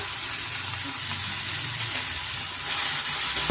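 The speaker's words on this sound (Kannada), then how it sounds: "ಈರುಳ್ಳಿ ಫ್ರೈ ಆಗೋದಕ್ಕೆ." Onions fry in a pan for instant egg rice, giving a steady, close sizzling hiss that swells slightly near the end, with a brief utensil tap at the finish.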